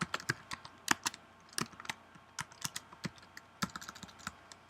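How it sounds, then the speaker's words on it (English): Fast typing on a computer keyboard, crisp close key clicks in quick uneven bursts with short pauses, quiet and with no speech. "Sometimes I type a little too quick."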